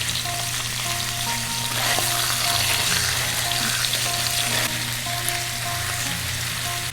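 Steady, loud frying sizzle in a pan of crispy salmon and coconut milk rice, with sauces added and stirred, continuous throughout with low background hum and faint scraping.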